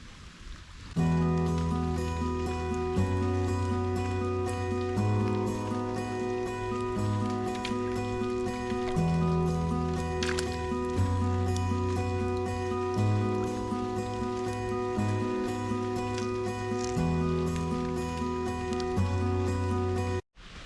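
Steady rain falls outdoors during freshwater fishing, a continuous hiss of drops at a constant level beneath a loud, looping music track, ending abruptly.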